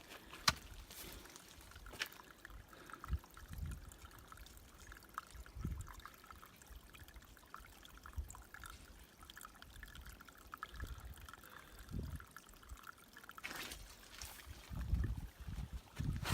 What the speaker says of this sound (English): water coming right out of there. Not a lot, just a trickle, but it is a little spring.